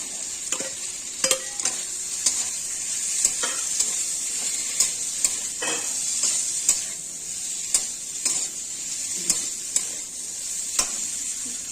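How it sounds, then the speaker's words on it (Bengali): Fried potatoes go into a cauliflower and soybean curry in a pan, giving a loud continuous sizzle close up, broken by repeated sharp scrapes and clinks of a spoon stirring against the pan. "এবার ভেজে রাখা আলুগুলো দিয়ে দেব।"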